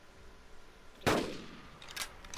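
A single loud rifle shot fired while hunting an ankylosaurus in the video game Carnivores: Dinosaur Hunt. It cracks sharply and rings out over a quiet outdoor background, followed by faint echoes.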